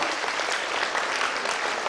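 A big round of applause for a school quiz team, loud, dense and continuous clapping from an audience with no break.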